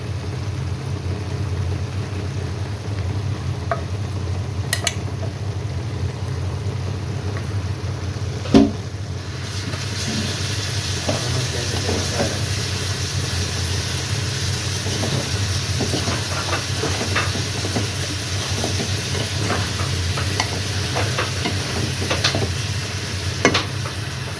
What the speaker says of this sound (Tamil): நம்ம அரைச்சி வச்சதை அதில் சேர்த்துக்கிறோம்